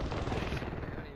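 Sustained AK rifle fire in the video game Warzone, a dense rapid stream of loud automatic shots with no pauses, close and filling the whole moment.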